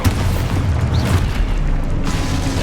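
Blast of an Expulso spell in a Hogwarts wizarding video game: a loud, dense boom with a heavy low rumble sustained across the moment, then a brief fading tail.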